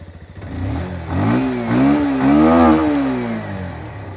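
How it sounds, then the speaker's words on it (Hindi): A Bajaj Avenger Street 160 BS6 motorcycle with a matte-finish side-hung single-barrel exhaust idles then revs up in several rising pulls, close and loud, easing back down toward idle at the end. "साइड में ये मैट फिनिश साइड हंग सिंगल बैरल एग्जॉस्ट। चलिए इसका आवाज सुनते हैं।"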